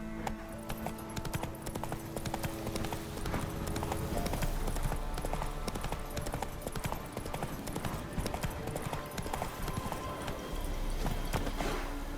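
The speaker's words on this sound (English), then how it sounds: "Run, Roach" Horse hooves gallop at a fast, steady clip-clop in The Witcher 3, loud and continuous against a busy wash of game sound throughout.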